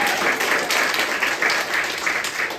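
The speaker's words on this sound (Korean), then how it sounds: "와 박수." An audience at a Catholic retreat lecture applauds, a dense, loud, continuous round of many hands clapping with slight rhythmic surges throughout.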